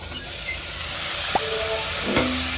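Tomatoes go into a pan of frying onions and garlic in a home kitchen, producing a loud steady sizzle and hiss with a brief stirring scrape, no talk.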